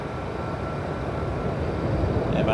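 A Southwest Boeing 737-800 airliner landing at LAX gives off a steady, broad engine roar that builds slightly louder toward the end.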